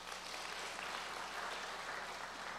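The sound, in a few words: audience applause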